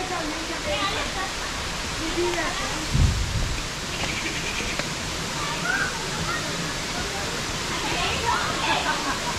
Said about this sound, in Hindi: आप देखेंगे आपको झरनों की बहुत सारी आवाज़ आ रही होगी शानदार वाली एकदम